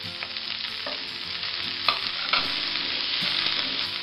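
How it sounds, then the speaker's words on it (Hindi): Capsicum, cabbage and broccoli being stir-fried on a high flame for vegetable spaghetti, a steady close sizzle with a few sharp spatula clinks and scrapes, no talking. "हाई फ्लेम पे ही हमें सारी वेजीज को सौते होने देना है।"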